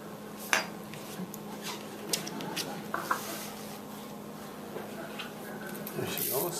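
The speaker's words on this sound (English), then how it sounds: "You mix that all in with it, chop it all up, mush it up" Chopped tomato filling for yabrak is mixed and mashed in a bowl, with irregular clinks and scrapes of a utensil against the dish and a faint voice in the background.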